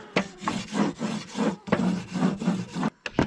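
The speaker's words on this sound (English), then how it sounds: "then you'll just scrape the grates with the piece of wood" A piece of wood scraping hot campfire grill grates in the Boundary Waters, a rough rasping rub in long repeated back-and-forth strokes, close and loud, with no talking.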